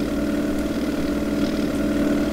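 Steady droning engine hum of a seaplane in the Minetest plane mod, a continuous mid-low idling tone with no breaks, heard alone at moderate loudness.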